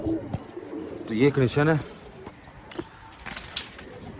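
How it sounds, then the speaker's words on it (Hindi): A pigeon coos in a soft rolling burst, followed by someone speaking briefly over quiet background noise. "ये किस लेवल का कबूतर है"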